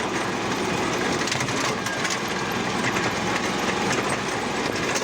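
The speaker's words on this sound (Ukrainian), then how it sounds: "добре трактор відпрацьовує" A tractor towing a broken-down car home at night across a rough, off-road stretch gives a steady, loud engine drone with constant rattling and shaking noise throughout, and no voices.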